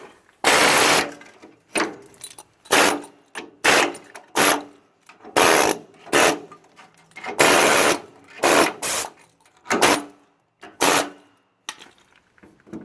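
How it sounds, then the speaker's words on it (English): An air chisel chipping rust out of the landing gear leg on a semi trailer, loud bursts of rapid hammering chatter starting and stopping repeatedly, with short quiet gaps between. "just gonna use an air chisel and get all this rust out"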